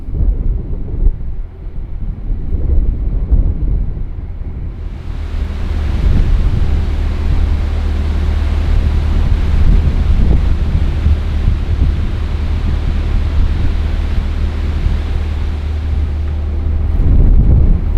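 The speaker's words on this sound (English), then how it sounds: "We've certainly had some really windy weather over the last few hours." Strong wind roars steadily against the microphone on a narrowboat on a canal, a heavy rumbling buffet that swells louder partway through and stays constant, with no voices.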